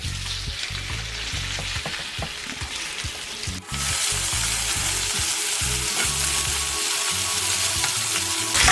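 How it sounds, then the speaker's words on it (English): Curry-seasoned shrimp and scallops sauté in a hot pan, a steady sizzle broken by scraping stirring strokes, with no talking throughout. "I'm gonna add this here and saute this, not for too long."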